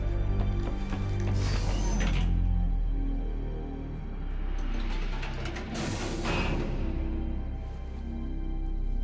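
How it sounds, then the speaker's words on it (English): Elevator machinery in The Citadel video game, a steady mechanical grinding with creaks and ratcheting clanks that swell and ease in waves, moderately quiet and alone. "We're in an elevator."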